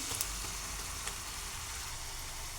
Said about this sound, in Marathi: जिरी मोहरी टाकून घ्यायची अगोदर